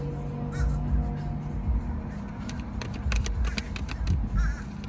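Crows squabble noisily over a thrown apple, giving repeated harsh caws in quick bursts close by over steady background noise.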